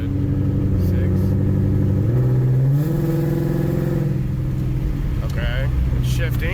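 A 2017 Ford Mustang GT engine droning loudly from inside the car as it accelerates, pitch climbing and dropping through gear shifts, with speech faintly under the engine.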